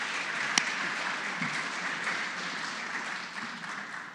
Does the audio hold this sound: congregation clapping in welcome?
yes